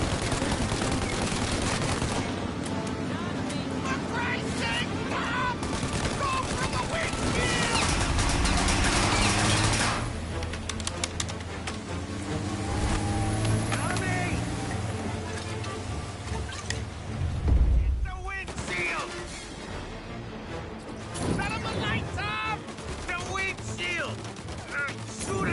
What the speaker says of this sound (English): I can't shoot out the windshield.